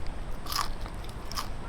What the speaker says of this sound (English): it's got a nice crunch.